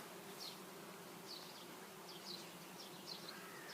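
Steady, dense buzzing of many bees over a flowering phacelia field, a continuous drone with individual insects passing close every second or so.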